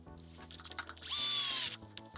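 Power drill driving screws into the bottom of a Kraton XL RC car, one steady whirring run of about half a second after light handling clicks, close and loud.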